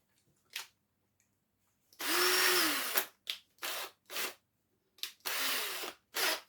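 A small drill spinning a headless panel pin whirs in several short bursts, two longer runs separated by quick stop-start pulses, close and fairly loud with silence between.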